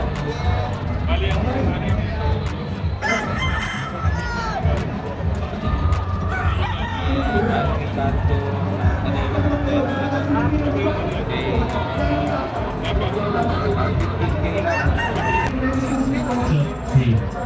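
Gamefowl roosters at a game farm, including a Spark Gray with a straight comb and yellow legs, crow and cluck in the background while someone talks steadily over them.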